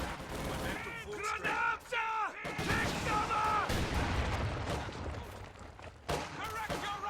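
Artillery and gunfire rumble through a World War II strategy game battle, with booming blasts and crackling shots layered under shouted voice commands throughout.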